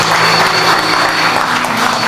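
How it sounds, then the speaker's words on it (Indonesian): A crowd claps continuously at a Christmas church celebration in Tegal, a dense, steady wash of applause filling the whole moment without pause. "Boleh apresiasikan tepuk tangan buat Tuhan Yesus"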